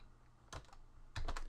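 Keys clatter on a computer keyboard as a folder name is typed, with two short bursts of quick, close taps separated by a pause, over a quiet room hum.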